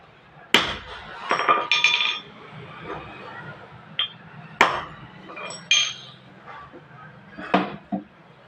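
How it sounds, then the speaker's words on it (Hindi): Hammering on parts of a 1.5 submersible motor pump during repair, with several sharp metallic clinks and knocks spread irregularly over the clip, fairly close, and a few softer taps between them. "और इसको ठोक लेते। इस तरह से"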